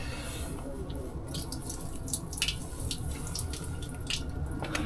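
Collected rainwater being emptied out after a car trip, a steady splashing, dripping pour with scattered droplet spatters, close and moderately loud without any talking.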